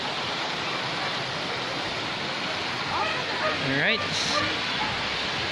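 Water rushes continuously at Mot Mot cold spring in Guadalupe, Cebu City, Philippines, a loud, steady broadband wash that fills the whole stretch, with a brief spoken word near the end.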